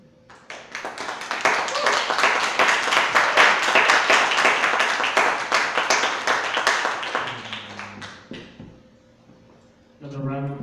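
An audience at a live poetry slam bout applauds loudly and continuously, dense clapping that swells and then thins out before fading, with a voice speaking briefly at the end.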